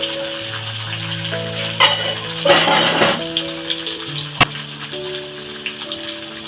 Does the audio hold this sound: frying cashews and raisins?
yes